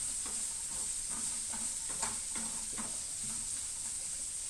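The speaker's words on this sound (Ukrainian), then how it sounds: "У нас тут смажиться цибуля, висипаємо одразу моркву і хай воно насмажиться." Onion and carrot frying in a pan for a pickled-cucumber barley soup, a steady bright sizzle with soft repeated stirring scrapes over it, close and continuous, with no talking.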